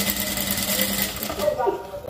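Sewing machine stitching bias tape boning channel onto a transparent corset, a steady close mechanical whir of rapid needle strokes that eases off near the end, with a voice talking over it.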